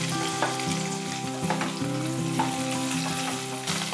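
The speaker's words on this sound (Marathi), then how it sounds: "आता हे भेंडे आपण ह्या तेलामध्ये तळून घेऊया।" Mature okra (bhindi) frying in about two spoonfuls of oil, a loud, steady close-up sizzle with crackling pops and occasional stirring clinks, no talking.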